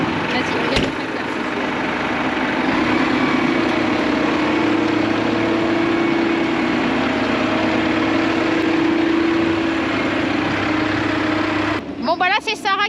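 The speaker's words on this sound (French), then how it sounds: "Vas-y, regarde le tracteur." Farm tractor engine running at a steady idle nearby, a continuous low drone that holds for most of the stretch, with people talking over it and a brief sharper noise near the end.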